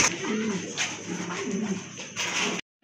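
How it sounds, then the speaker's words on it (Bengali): Three pigeons offered for sale coo close by in repeated low, rolling calls, one after another. A faint hiss sits in the background, and the clip falls silent just before the end. "এখানে কিন্তু 3টা কবুতর আছে"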